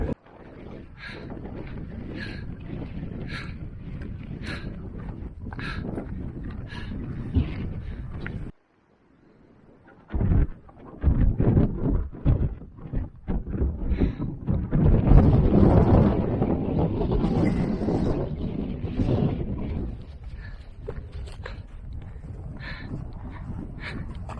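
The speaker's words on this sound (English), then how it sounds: "It's super windy up here." Strong wind roars and buffets the microphone almost throughout in an open wasteland, dropping out briefly before surging back in heavier gusts, with no voices.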